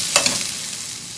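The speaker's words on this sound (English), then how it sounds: "Then add 1 cup of finely chopped onions. And I will saute till the onions turn pink." Finely chopped onions sautéing in a pan for bread crumbs upma, a brief loud sizzle with a couple of stirring scrapes at the start, then a steady hiss.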